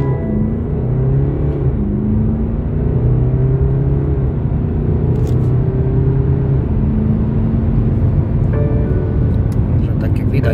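BMW 320d xDrive 190 PS mild-hybrid diesel car from 2022 accelerating hard from a standstill with traction control off, a steady loud interior engine drone rising through the gears with brief dips at shifts.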